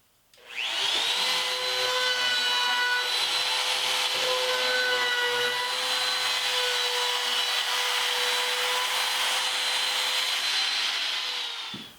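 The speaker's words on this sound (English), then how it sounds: "I'm going to use the router and run a round over along this back edge" A router cuts a roundover along the back edge of a wooden platform bed part, spinning up with a rising whine, then a loud steady high-pitched roar for about ten seconds before winding down.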